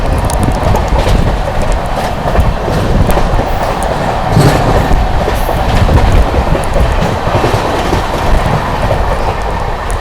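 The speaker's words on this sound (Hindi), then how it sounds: "थोड़ी देर में अपनी विक्रमशिला एक्सप्रेस स्किप करने वाली है फिरोजाबाद को" The Vikramshila Express runs at speed through Firozabad without stopping, heard from aboard as a loud, steady rumble with rapid clattering of wheels over rail joints and no voices.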